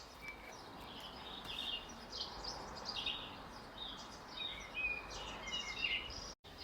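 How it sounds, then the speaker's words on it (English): Busy chirping and squabbling of sparrows and starlings at bird feeders, overlapping calls and twitters scattered across the clip at moderate distance, steady and continuous. "It's usually just a bunch of sparrows and starlings squabbling over the bird feeders."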